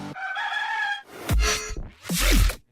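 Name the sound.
chicken crowing and clucking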